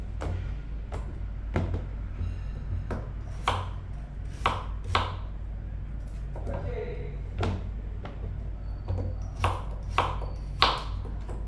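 A knife peels chayote in a home kitchen, producing sharp, irregular taps and scrapes that come close and clear at intervals, while a person talks over them.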